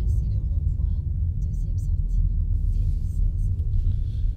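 Inside a Citroën Berlingo Van under semi-autonomous driving, a low engine and road rumble swells as the van reaccelerates after nearly stopping, while a person talks over it.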